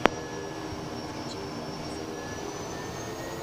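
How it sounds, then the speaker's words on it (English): Kodiak airplane turboprop engine during takeoff, a steady broadband roar with a faint rising whine, heard from inside the cabin without a break. "we are clear for takeoff"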